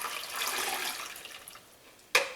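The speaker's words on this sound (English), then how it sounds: "And then I'm going to add my lye liquid, which is just water and lye that's been dissolved." Dissolved lye and water solution is poured for hot process soap, a steady watery trickle running for about two seconds before a brief louder splash at the end.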